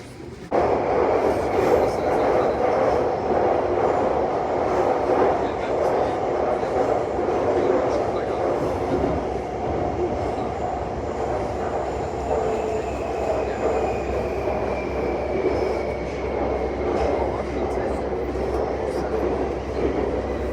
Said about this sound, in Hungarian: This is Metro Line M2